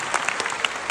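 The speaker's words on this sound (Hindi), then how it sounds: "अपने लिए ताली बजाओ" Audience at a Bar Council of Delhi enrollment meeting applauding new lawyers, a brief burst of dense clapping, steady and fairly loud with no voices.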